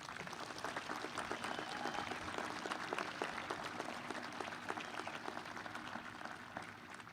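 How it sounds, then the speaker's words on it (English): A large commencement crowd at Mansfield University claps for degree candidates, a dense, even patter that sounds fairly distant and soft and holds steady throughout. "Please give them another round of applause"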